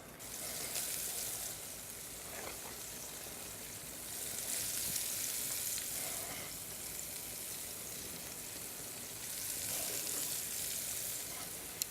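Small one-ounce meatballs searing in a pan, giving a faint, continuous sizzling hiss that swells and eases in slow waves.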